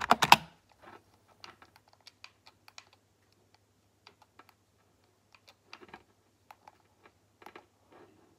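Sparse, irregular keystrokes on a computer keyboard while playing the typing game Keyboard Master Ninja, crisp and close, after a brief louder burst at the start, with quiet gaps between clusters of clicks.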